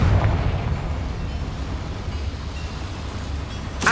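A blasting spell explodes in Hogwarts Legacy as a loud, rumbling boom with heavy low-end and crackling debris, sustained for several seconds and ending in a bright burst.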